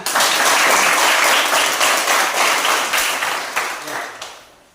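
Schoolchildren in a classroom break into loud, continuous clapping that holds steady for several seconds, then tapers and fades as the applause ends.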